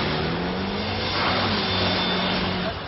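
A carbon-fibre supercar, rated 0 to 100 km/h in 3 seconds with a 355 km/h top speed, accelerates hard on a small race circuit, its engine roaring loud and steady with the pitch climbing.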